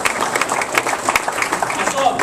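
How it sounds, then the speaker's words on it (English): Audience applause for service members' spouses and children, a dense steady patter of many hands clapping with crowd noise mixed in, fairly close and continuous throughout. "So let's give them a big round of applause."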